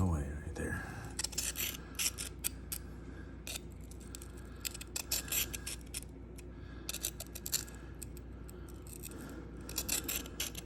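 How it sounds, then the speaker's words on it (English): An S110V steel knife edge grinds on a Sharpal field sharpener, raising a burr with quick repeated scraping strokes in short bursts and pauses, close and fairly quiet under a low background hum. "I can hear that burr grinding away right there."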